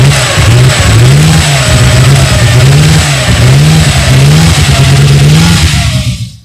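A Bugatti racing engine revs loudly and repeatedly, each throttle blip rising and falling in pitch in a steady cycle of surges close by, with no voices over it.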